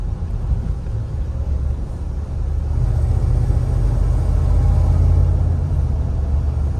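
An LT4-powered Cadillac Escalade accelerating on part throttle: a low, steady engine rumble inside the cabin that swells gradually in loudness, with little else heard.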